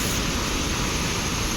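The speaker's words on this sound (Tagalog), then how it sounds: "The falls." Steady, dense roar of a waterfall rushing, a continuous broadband wash of falling water with no breaks, loud and close.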